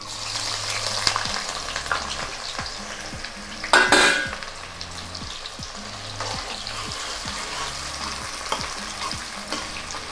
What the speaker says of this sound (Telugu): చూడండి, మంచిగా వేగినాయి ఉల్లిగడ్డలు